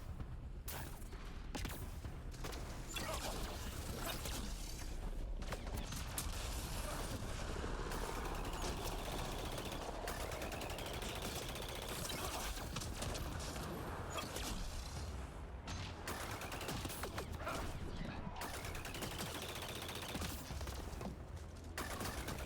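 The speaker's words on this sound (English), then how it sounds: "This is literally the Geth pistol from Mass Effect. I love it. The Geth SMG, I should say. I love the wind up." Rapid automatic fire from the Geth SMG in the Mass Effect video game, with a wind-up before sustained bursts of sci-fi gunfire that repeat loudly and continuously amid other game sounds.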